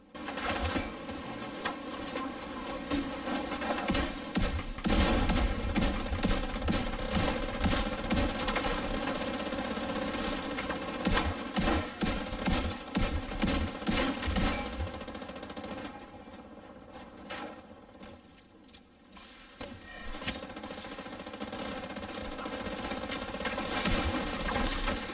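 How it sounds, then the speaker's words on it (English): A heavy mounted gun in a video game raid hammers out long sustained bursts of rapid fire, loud and close, with a brief lull near the end before the firing resumes. "I'm getting on the big gun."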